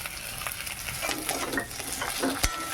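Cumin paste fries in a pan, a close, steady sizzle broken by scraping stirs and a sharp clack near the end.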